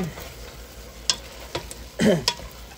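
A spoon stirs Korean sweet chili spaghetti sauce with shrimp and crab meat in a pan, giving soft scrapes and a brief sizzling clatter near the end, with no talking.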